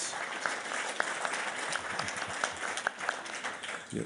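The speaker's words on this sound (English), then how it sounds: "you're almost getting as much applause as the Ukrainian soldiers" Audience applause at a panel with the NATO chief at Ukraine House during the World Economic Forum; steady, mid-level clapping from a crowd with a few sharper individual claps standing out, continuing for about four seconds.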